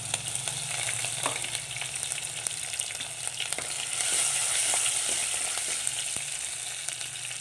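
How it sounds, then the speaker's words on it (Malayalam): Chopped ginger and garlic hit hot oil with curry leaves and fry in a steady, close sizzle, with a few clinks from stirring and a brief surge of crackle midway, no voices. "അതിലേക്ക് അരിഞ്ഞു വച്ചിരിക്കുന്ന ഇഞ്ചി വെളുത്തുള്ളി ഇട്ട് കൊടുക്കാം."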